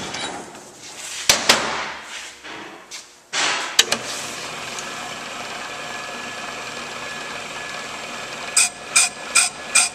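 A brake lathe makes a light scratch cut on a brake drum, with a steady mechanical hum and a few clanks and clicks early, ending in a quick series of sharp metallic ticks.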